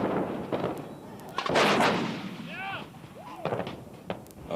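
An M109 self-propelled howitzer fires its cannon: several sharp booming reports with a loud blast near the middle, echoing in the open. Scattered voices are heard between shots.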